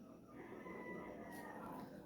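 Chickens, including a rooster and young chicks, clucking and calling softly at a moderate distance in a continuous low background, with no talking over them.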